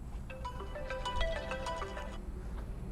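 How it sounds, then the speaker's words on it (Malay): A phone ringtone for an incoming call plays alone as a bright, melodic electronic jingle of repeating tones, steady and clear for a few seconds over a faint low background hum, with no talking. "Sekejap ada call."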